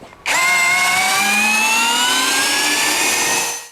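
An OSUKA OCD801 cordless drill drives a screw, its motor starting abruptly and whining loudly and steadily, the pitch sliding gradually upward for about three seconds before cutting off.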